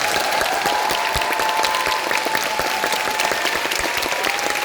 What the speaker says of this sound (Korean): 배우님들께 아까 들어올 때보다 더 큰 박수 좀 부탁드립니다.